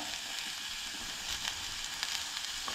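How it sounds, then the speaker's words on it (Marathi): Chopped onion frying in a pan for a Goan cowpeas and drumstick bhaji, a steady bright sizzle with small crackling pops throughout, close and continuous with no talk. "तेज्या उपरांत कांदो जो आहा न्हय तो तळतळून घेयात मातसो"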